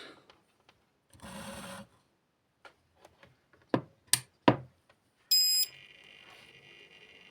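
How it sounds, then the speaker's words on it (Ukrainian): A power inverter hooked to a battery switches on: a few soft clicks and a short buzzing burst, then sharp knocks and a loud, bright electronic beep, followed by a low steady hum, all without voices. "Так, вмикаємо інвертор."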